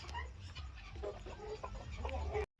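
Brahma chickens cluck close by in repeated short bursts over a low rumbling background, cutting off abruptly near the end.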